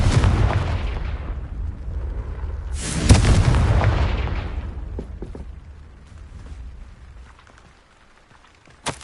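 A Confringo blasting spell explodes in Hogwarts Legacy with a heavy booming burst, followed by a second loud blast and a long rumbling decay, ending in a faint sharp pop.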